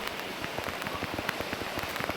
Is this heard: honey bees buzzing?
no